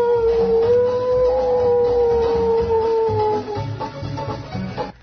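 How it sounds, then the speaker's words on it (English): A timber wolf howls in one long, sustained, slowly wavering cry that holds for about three and a half seconds, then trails off, set against the dark of night in the American backcountry. "you could hear out of that long, black, Stygian darkness of the American night, the sound of a timber wolf coming down from way up on the upper slope"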